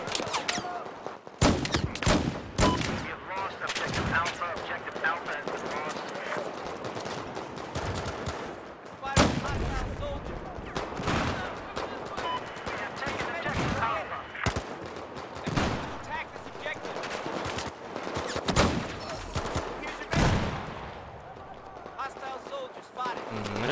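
Rapid gunfire in the shooter Battlefield 4, including a .44 Magnum sidearm: loud, close shots and bursts come in irregular clusters throughout, with battlefield noise between them.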